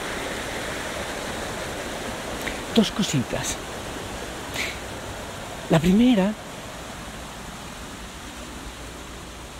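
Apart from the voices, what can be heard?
water flowing beneath a high bridge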